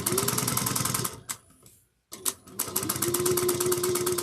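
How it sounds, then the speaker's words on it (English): A sewing machine runs at speed on a tote bag, stitching in a loud, rapid, even rhythm that stops briefly mid-way, then picks up again at full pace. "I like to kind of let my sewing machine fly."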